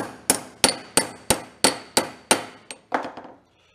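Hammer blows knock down a spot weld on backhoe metal: eight or nine sharp ringing clangs in an even rhythm, each decaying quickly, the last few lighter, then silence.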